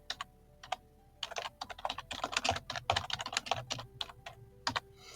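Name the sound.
typing on a computer keyboard to rename a column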